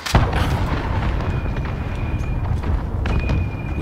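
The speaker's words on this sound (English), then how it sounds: "Enemy cruise missile incoming." Cruise missile strike in the video game Modern Warfare: a heavy, close explosion opens, followed by rumbling, crackling impacts and gunfire.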